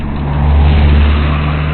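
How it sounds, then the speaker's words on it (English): A car speeds along a country road near Aberdeen, its engine a loud, steady roar throughout. "that car's going far too fast on the country roads"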